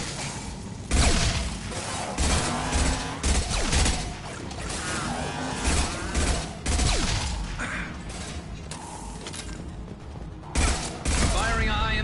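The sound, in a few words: gunfire in the video game Mass Effect 2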